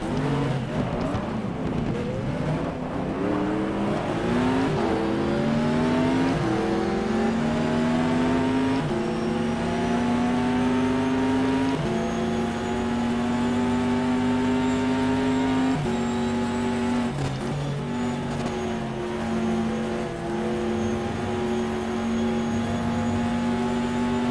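A race car engine revs hard and steadily in the GTR 2 racing game, loud and continuous with rising and falling pitch as gears shift, filling the whole stretch without pause.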